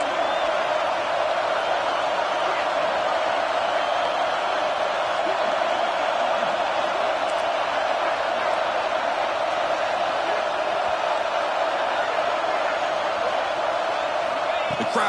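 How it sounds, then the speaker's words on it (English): A packed Ohio State football stadium crowd roaring during a fourth-down defensive stand, a dense, continuous wall of cheering noise that stays loud and steady throughout. "The crowd is roaring, trying to help this defense on fourth down."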